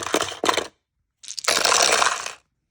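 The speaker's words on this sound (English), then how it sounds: "You can put all your doubloons and all of your dice back inside of your treasure chest." Plastic doubloon coins and dice from a toy treasure game tossed back into a toy treasure chest, two sharp clattering bursts, a short pause, then a longer rattling pour of coins, loud and close.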